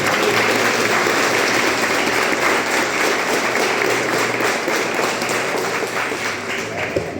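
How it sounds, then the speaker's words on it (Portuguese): A church congregation claps at a women's service celebrating a church's second anniversary, a loud continuous wash of applause filling the room for the whole stretch, with no words spoken over it. "Dá uma salva de palmas para Jesus"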